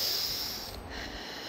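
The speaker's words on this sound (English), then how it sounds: "So take your breath from the nose and leave your breath from the mouth." Deep breathing for relaxation in labor, in through the nose and out through the mouth: one long, close, breathy exhale with no talking.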